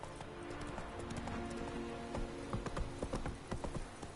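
Horse hooves clip-clopping at a gallop in The Witcher 3 video game, a steady rhythmic beat of close, moderately loud hoof falls over a faint background bed, growing slightly busier toward the end.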